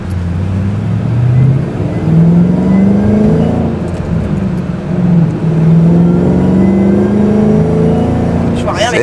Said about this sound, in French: quand tu appuies sur la pédale, au bout de 3000 tours, tu as vraiment le bruit de fou qui se réveille